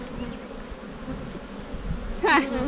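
Honey bees buzz steadily around an open hive during a varroa mite check, a close, continuous drone with one louder bee passing near the end and no talk over it.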